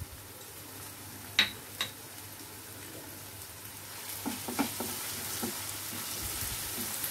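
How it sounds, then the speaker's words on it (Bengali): Egg bhurji with pepper and a little sugar is stirred in a pan: quiet sizzling under a few sharp spatula clicks and scrapes against the pan, scattered through the stretch. "ভালো করে নাড়াচাড়া করে নিতে হবে।"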